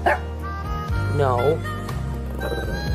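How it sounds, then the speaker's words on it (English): A Shih Tzu barks several times close up while meeting a guinea pig for the first time, its yips and bow-wows mixed with someone talking over it. "Don't bark at him."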